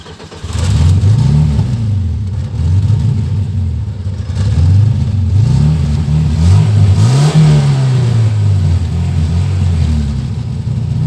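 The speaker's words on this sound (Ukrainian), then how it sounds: "От, насос загудів і попробуємо завести машину." A VAZ-21099 car engine misfiring on a cylinder cranks and catches, then runs with rising and falling revs, a loud, close, steady mechanical drone throughout.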